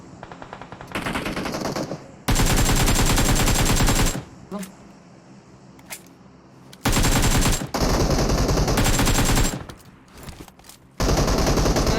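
MG3 machine gun blasting in PUBG Mobile, loud sustained automatic bursts of several seconds each, separated by quieter gaps with faint background noise and a few isolated shots.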